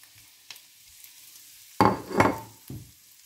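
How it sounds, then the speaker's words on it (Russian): Onion and mushroom stems being fried and stirred in a pan, heard as a few short bursts of scraping and sizzling, with the loudest cluster of stirring near the end and quiet gaps in between. "Здесь я обжариваю лук."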